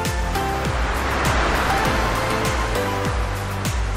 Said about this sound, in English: While enjoying the sunset and the sound of the waves